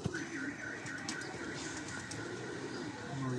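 Pigeons coo softly at a pigeon club, low repeated calls set against faint background noise and a distant rumble, with no clear talk.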